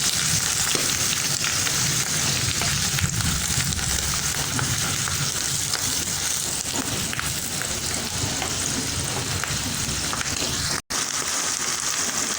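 Meatballs and mushrooms stirred in a pan of crème fraîche cream sauce, giving a steady close sizzle with soft scraping and bubbling throughout, briefly cut by a short silence near the end.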